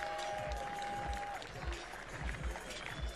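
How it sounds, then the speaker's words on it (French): Audience applause at an MMA event in French Polynesia, a dense, steady patter of clapping from a crowd with a tonal whistle in the first part and scattered noise. "Je veux encore des applaudissements, s'il vous plaît."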